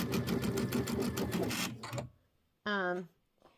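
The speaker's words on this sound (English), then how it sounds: "it's just doing a locking stitch in place" A home sewing machine runs a fast rhythmic burst of stitches for a locking stitch in place while quilting, then stops. After a short pause a voice speaks briefly, close by.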